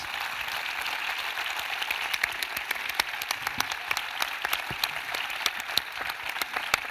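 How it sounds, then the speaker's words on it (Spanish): Sustained applause from an audience at a rural-themed anniversary event, dense crisp clapping filling the hall steadily throughout with no speech over it. "Un aplauso, por favor."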